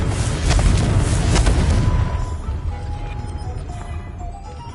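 A Confringo blasting spell explodes in Hogwarts Legacy, a loud booming burst with rumbling crashes over the first two seconds, then fading into quieter game ambience with faint tonal chimes.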